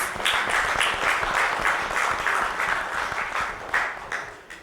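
An audience at the FMCG Supply Chain Summit 2022 gives a round of applause for a panelist, the president of Kokuyo Camlin Limited, with many hands clapping steadily and evenly throughout.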